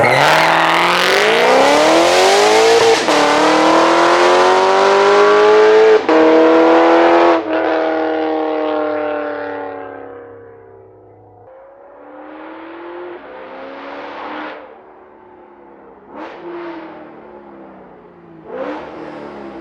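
Lexus RC F V8 revs hard as the car drives off, climbing through gears with sharp shift breaks, then fading into the distance with a few distant surges; crisp, loud and close at first, no talking.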